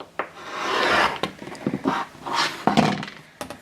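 A cutter trims quilt fabric along a ruler on a cutting mat, making a series of close, rasping rubbing strokes of varying length with brief pauses between them.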